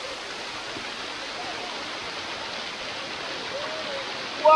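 Tumalog Falls in Cebu pours in a steady, broadband roar of falling water, constant and close, with a brief louder burst at the very end.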